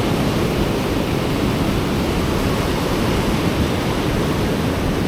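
Ocean surf breaks along a beach in a steady, roaring wash of broadband noise, loud and continuous with no distinct pauses or voices.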